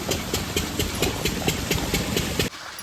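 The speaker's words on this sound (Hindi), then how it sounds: "बंद हो गया इंजन।" A village engine chugs at a steady idle with a regular knocking pulse, close and loud, then cuts off abruptly near the end, leaving quiet background.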